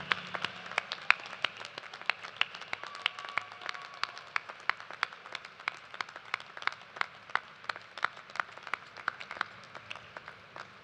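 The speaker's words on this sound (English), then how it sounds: "Graduates, please join me in another round of applause for these family, friends, loved ones" Graduates at a University of Toledo graduate commencement ceremony applaud family and friends, with sustained, fairly faint applause made of many individual sharp claps spread evenly through a large hall, steady from start to finish.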